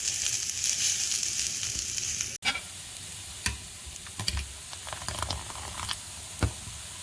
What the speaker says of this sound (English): You have to roast this in slow fire, otherwise the coconut will get burned easily.